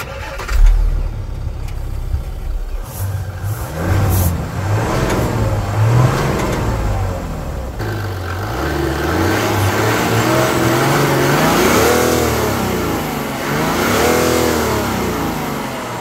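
The six-cylinder diesel engine of a 2023 Jaguar F-Pace revs repeatedly, its pitch sweeping up and down in several surges, loud and close with a deep diesel rumble.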